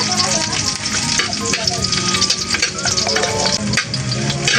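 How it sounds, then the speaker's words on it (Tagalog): Garlic and ginger sauté loudly in hot oil, a dense, continuous close-up sizzle with occasional crackles and stirring scrapes throughout, no voices over it. "Igisa ko na rin po yung bawang."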